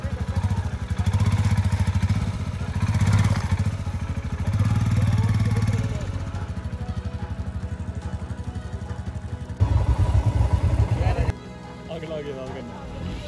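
A motorcycle rides slowly along a snow-covered mountain road near Billawar in sub-zero weather. Its close engine rumble rises and falls under people talking.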